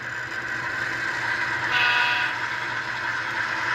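Rapido E8 model locomotive accelerating at full throttle, a steady motor whine and hum that swells slightly midway, close and continuous with no talk.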